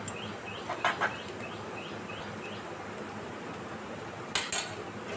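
A spoon stirs sabu khichuri with ghee in a cooking pot, making a few sparse, faint metallic clinks and scrapes in two brief clusters, separated by a long quiet stretch of low room hiss.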